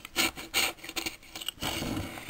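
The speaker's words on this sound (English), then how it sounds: "now I'm just going to scrape off all of this paint" Dried paint scraped off a papier-mâché mirror frame: close rasping, rubbing strokes in uneven bursts, a few short scrapes followed by a longer continuous drag, fairly quiet with no speech.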